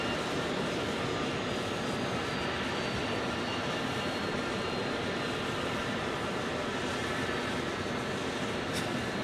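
An Airbus A321neo airliner arriving from Boston at Phoenix Sky Harbor gives a steady, broad jet roar that holds evenly throughout, moderately distant with no voices.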